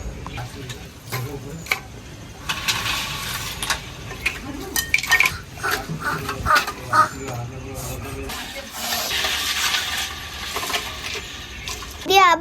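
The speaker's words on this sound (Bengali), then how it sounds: "হাঁড়িতে এবার পুরো বরফ দিয়ে ভরে দেবো।" Ice tipped into a pot around steel kulfi containers for freezing malai kulfi, heard as a long run of close crunching, clattering chunks and metallic knocks, with voices talking now and then.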